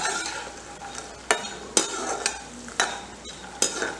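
Almonds and cashews roast in desi ghee in a pan, giving a steady close sizzle broken by sharp scraping clinks as a spoon stirs them, about five times.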